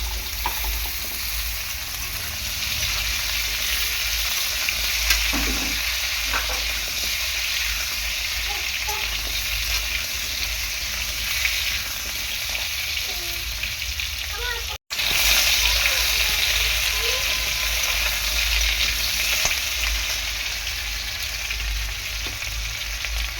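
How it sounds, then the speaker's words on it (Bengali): Potatoes frying in hot oil in a pan for a rohu fish curry, a loud, steady, dense sizzle that runs continuously with a brief break midway, close up, with no talking. "সবগুলো আলু আমি এখানে দিয়ে দেবো, দিয়ে ভালো করে আলুগুলোকে ভেজে নেব।"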